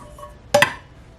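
Two quick metallic clinks as mini pots and pans are set into an egg boiler, sharp and close, with near silence around them.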